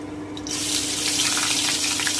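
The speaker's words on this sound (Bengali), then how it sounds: "আমি মিক্সির বাটি ধোয়া জলটা একটু দিয়ে দিচ্ছি" Rinse water from a mixer jar is poured into pointed gourd paste cooking in a pan, starting as a sudden, steady splashing rush that continues close and loud to the end.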